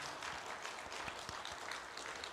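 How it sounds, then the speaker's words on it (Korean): Church congregation applauding at a Sunday evening worship service: faint, diffuse clapping from many hands, steady throughout, heard from a distance in a large room. "우리 박수로 하나님께 영광의 박수 올려드리겠습니다."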